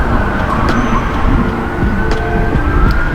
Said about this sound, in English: It's breezy, that's one, and then there's traffic going by.